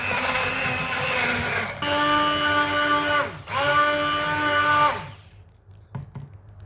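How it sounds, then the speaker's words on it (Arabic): A kitchen blender mixing pear and orange with sugar and water, whirring loudly in three close bursts separated by brief dips, then switching off into near silence. "دابا كنجيبوا الخلاط تاعنا بسم الله."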